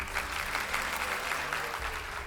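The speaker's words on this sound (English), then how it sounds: "Can we have a round of applause?" Audience members at a televised debate applaud both debate teams, a brief, fairly soft wash of clapping with a faint low hum underneath.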